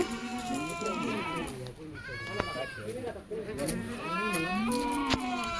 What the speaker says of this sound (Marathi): हा ना बकरे टाकायचं काम चालू आहे गाडीमध्ये दहा बकऱ्या